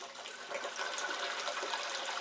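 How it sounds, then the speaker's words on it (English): Water rushes and gurgles steadily as an aquaponics bell siphon drains under suction, a close, hissing gush with no voices. "That is the sound of suction and physics and gravity all working in your favor"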